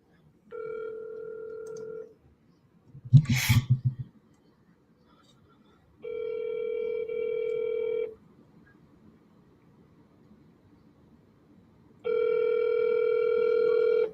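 A telephone call is placed: a short burst of touch-tone dialing, then two-tone ringback tones repeat at regular intervals, each about two seconds long with silence between, clear and close as heard through the phone line.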